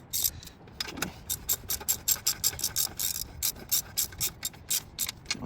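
Ratchet clicking in quick repeated bursts while exhaust nuts are tightened on a vehicle, crisp close ticks with short pauses between strokes, no talk.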